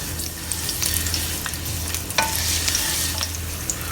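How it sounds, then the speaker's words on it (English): Three slices of ginger fry in a heated pan over medium heat, giving a steady, close sizzle with occasional stirring clicks throughout. "Into the heated pan we'll add in 3 pieces of sliced ginger. Please fry them at medium heat."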